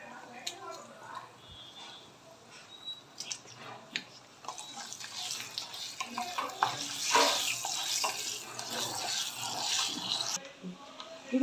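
Dried red chilli pieces frying in hot oil for a tempering for a ginger pickle, a steady close sizzle that builds and grows busier toward the end, with no talk over it.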